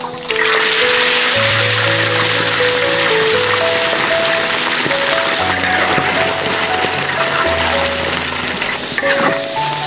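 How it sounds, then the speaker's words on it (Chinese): Marinated chicken coated with salt, pepper and cornstarch deep-fries in hot oil in a wok, giving a loud, steady sizzle and crackle for the whole stretch while background music plays along. "下锅炸。"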